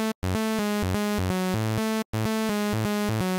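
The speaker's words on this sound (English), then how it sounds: "a saw wave, and I prepared a melody that sounds like this." A Serum synth saw wave plays a simple stepped melody of sustained notes with brief gaps, bright and buzzy with dense harmonics, steady and alone with no talk.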